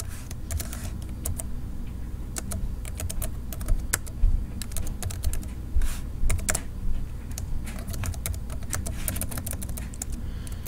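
Someone types steadily on a computer keyboard while writing code, with quick irregular key clicks and occasional louder keystrokes, close and clear, with no voices.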